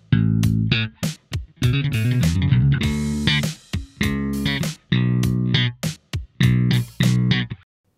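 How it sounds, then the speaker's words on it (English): A slap bass line with a triplet fill plays in short punchy bursts, with crisp percussive slaps and plucked notes separated by brief silences, heard alone and close. "that same bass line with that fill now sounds like this"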